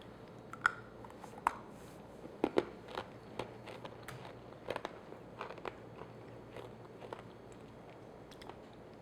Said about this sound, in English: Very crunchy, so it's really nice.